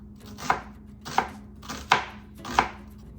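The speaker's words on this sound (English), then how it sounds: "now we need about 2 cups of onions chopped as well" A knife chops onions on a cutting board during relish prep, four sharp, evenly spaced strikes standing out clearly over a quiet kitchen hum with no talking.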